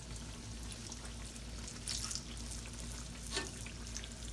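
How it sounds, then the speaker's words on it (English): Sweet potato pies fry in hot oil, making a steady close sizzle with brief louder crackling bursts and a low background hum, and no talking. "They don't take long at all to fry. Especially if your oil is hot."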